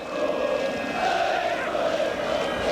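Dense stadium crowd noise at a 1998 World Cup qualifier, Poland against England, in a ground in Poland's industrial area: an even, continuous wash of thousands of voices at a constant level.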